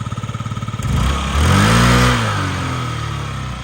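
A small Yamaha Jog SA36 fuel-injected scooter engine putters at a steady idle, then briefly revs up and settles back into an even, smooth hum, close by.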